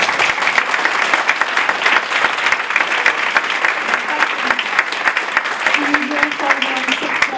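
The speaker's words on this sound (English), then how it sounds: "A round of applause again." An audience at a live conversation event with a basketball player applauds, a close, full burst of many hands clapping steadily throughout, with voices talking over it.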